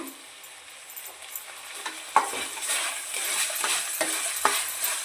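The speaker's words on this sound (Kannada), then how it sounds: "ಒಂದು ಸ್ಪೂನಷ್ಟು ಈ ಶುಂಠಿ ಬೆಳ್ಳುಳ್ಳಿ ಪೇಸ್ಟು ಸ್ಮೆಲ್ ಹೋಗೋವರೆಗೂ ಸ್ವಲ್ಪ ಚೆನ್ನಾಗಿ ಫ್ರೈ ಮಾಡ್ಕೊಳ್ಳೋಣ" Ginger-garlic paste fries in a pan for veg fried rice, a steady close sizzle broken by sharp stirring scrapes and clinks of a spoon against the pan.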